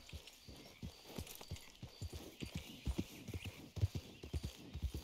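Horse hooves clip-clop at a walking pace in Red Dead Redemption, a string of uneven, fairly close thuds on the ground with light ambient noise between the steps.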